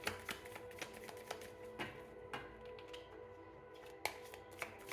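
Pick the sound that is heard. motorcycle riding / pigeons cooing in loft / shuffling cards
shuffling cards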